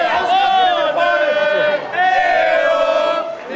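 A lively crowd of spectators fills the stands at a junior women's field hockey world championship match, Germany against New Zealand, with loud, continuous cheering and shouting that swells and dips throughout.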